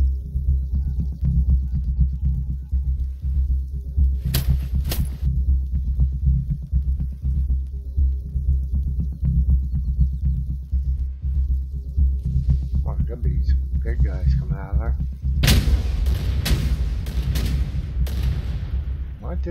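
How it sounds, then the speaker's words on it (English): Mortars fire in the Night of the Dead video game: a pair of sharp, loud blasts early on and a rapid cluster of booming shots near the end, over a constant deep rumbling drone, with brief talk in between. "It's like they shoot these mortars shoot into that thing."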